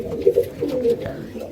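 Pet pigeons kept for breeding give low, throaty coos in short, repeated pulses close by, and a voice talks over them.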